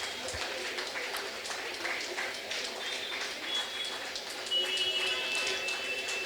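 Steady crackling applause from an audience at an award ceremony during a Ramanavami celebration, a continuous even patter of many hands that swells slightly toward the end.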